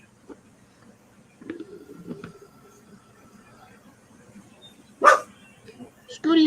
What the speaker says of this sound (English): Scooty Ooty Ooter, what are you barking at?